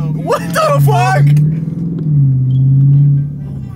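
A car drives with a steady low engine drone that rises and falls as it revs, loud and close inside the cabin, with people's excited voices over the start.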